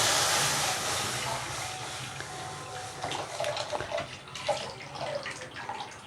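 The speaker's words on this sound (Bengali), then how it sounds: "বন্ধুরা, কড়াইতে বসিয়ে দিয়েছি, দুধটা দিয়ে দিচ্ছি।" Milk being poured into a kadai for homemade sandesh, a steady liquid splashing and running hiss that swells and flutters toward the end, close and moderately loud with no talking.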